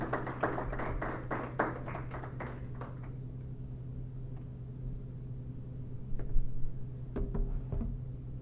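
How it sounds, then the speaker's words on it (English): A roundtable audience at an academic event applauds after a presentation, a burst of claps that fades after a few seconds into room quiet with a steady low hum and a few scattered taps. "So please, one more round of applause for Atalia Omer."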